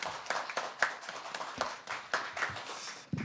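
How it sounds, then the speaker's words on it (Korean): A short burst of applause from a crowd, with claps fading in and out over about three seconds. "박수로 환영해 주십시오."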